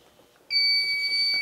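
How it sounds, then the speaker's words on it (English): A craft heat press timer alarm comes on abruptly after a quiet moment and holds as a loud, steady, high electronic beep with two sustained tones, close by. "Timer was not counting down, but it went off at 70 seconds"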